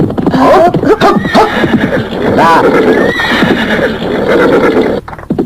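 Horses neigh and whinny loudly several times, with clip-clopping hooves beneath, in a dramatized scene set in old Java; voices of riders are present.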